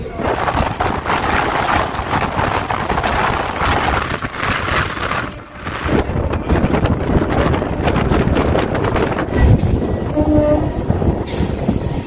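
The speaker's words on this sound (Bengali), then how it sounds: "আমাদের ট্রেন এখানে দিয়েছে খামারগাছি 3 নম্বর প্ল্যাটফর্মে।" A train rumbles steadily along the rails into Khamargachhi station, loud and close, with wind buffeting the microphone; a horn-like tone sounds briefly near the end.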